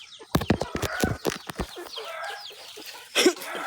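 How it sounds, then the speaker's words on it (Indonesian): Free-range village chickens in Central Sulawesi, Indonesia, give a quick burst of several clucks, then scattered softer calls, with a louder squawk near the end, all fairly close and without talk. "Itu juga banyak ayam aku ternyata. Tapi ayamnya ayam kampung."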